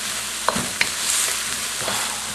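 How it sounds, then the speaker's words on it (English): Onion, shallots, garlic and ginger fry in a wok for a chicken jalfrezi, giving a steady sizzle with a couple of sharp clinks and scrapes of stirring near the start. "I got the onion and the shallots, and the garlic, and the ginger, all coming together in this here wok"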